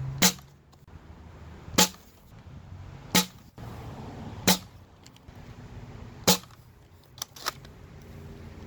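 Nerf blaster fitted with a long barrel and muzzle brake firing darts, six sharp, separated shots spaced roughly a second or more apart, each a crisp snap over a low background hum, with a few faint clicks between.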